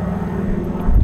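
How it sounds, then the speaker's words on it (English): A large airliner passes overhead beside a reservoir, a steady low engine roar that swells louder toward the end, heard alone without any voices. "Massive plane going over too."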